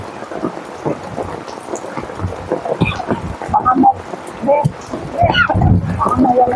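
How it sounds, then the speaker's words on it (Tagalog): Heavy typhoon rain pours down at night in a cemetery while thunder rumbles, loud and continuous, with someone talking over the storm as he rides a motorbike. "Kahit na may bagyo guys,"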